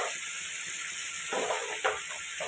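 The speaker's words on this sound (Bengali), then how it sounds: "বেগুনটা আর উচ্ছেটা একসাথেই ভাজা ভাজা হচ্ছে নুন হলুদ দিয়ে" Eggplant and bitter gourd frying together in a pan with salt and turmeric, giving a steady close sizzle with a brief stir near the end and no talk.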